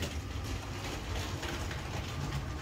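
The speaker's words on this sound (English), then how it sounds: "we kept the Hogwarts train going that whole time" A LEGO Hogwarts train runs along its track with a steady, fairly quiet mechanical whir and rattle that continues unbroken, with no voices.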